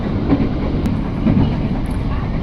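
A CRRC electric commuter train entering Kranji station near Bekasi, Indonesia, rolls along with a steady, heavy rumble and faint rhythmic rattling of wheels on track, close by and continuous.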